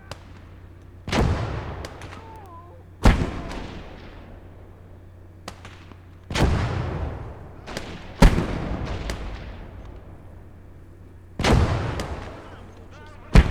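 Mortar and artillery fire in the WWII strategy game Call to Arms: Gate of Hell, with about six heavy booming blasts spaced a couple of seconds apart, each trailing off in a long rumbling decay, over a low steady hum.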